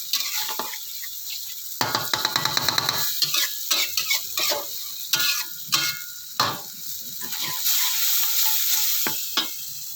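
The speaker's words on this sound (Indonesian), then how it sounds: "Inilah proses memasak yang paling menyenangkan, ialah menumis." Aromatics for water spinach stir-fry sizzling loudly in a pan, with repeated scraping and stirring clatter from a spatula over a steady frying hiss, close and continuous without speech.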